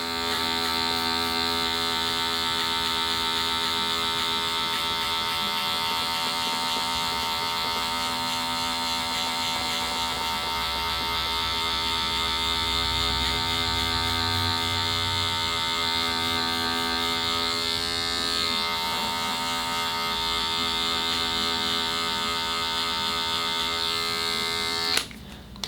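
Electric hair clippers fitted with a one guard and the lever open hum continuously while cutting a fade, with a close, steady buzz that holds for the whole stretch and ends with a sharp click.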